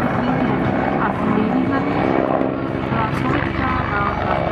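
Military helicopters flying during a combined army brigades demonstration at the BAHNA 2012 event, a loud, steady rotor and engine roar filling the whole clip, with a commentator speaking over it.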